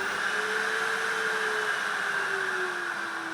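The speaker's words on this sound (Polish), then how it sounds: "sposobem jest po prostu odkurzanie" A small vacuum cleaner with adjustable suction runs steadily during museum textile cleaning, a constant close whine with a slowly falling motor tone and no talking.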